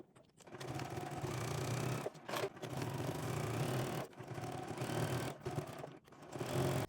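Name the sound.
sewing machine sewing shoulder seams of dog jacket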